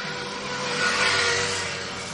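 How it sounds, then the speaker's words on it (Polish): A motorcycle drives past outside, a brief engine whine that swells to a peak and fades within a couple of seconds, moderately loud over a quiet background. "Gościu jechał na motorze."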